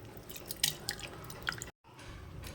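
Water-soaked flattened rice (chira) goes into a bowl in a home kitchen, giving soft wet drips and small splashes, a short gap, then quiet trickling.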